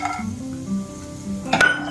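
Peanuts added to a tempering of cumin seeds and curry leaves in a pan, a light sizzle with soft stirring and a few clinks of metal near the end, with no talk.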